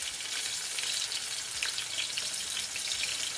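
Onion, tomato and garlic fry in olive oil in a pot on the stove, giving a loud, steady, close-up sizzle that hisses without a break, with no voices.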